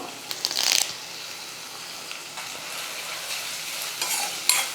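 Sliced onions and curry leaves fry in a pan with a steady low sizzle, while brisk scraping bursts of stirring come near the start and again near the end, close by.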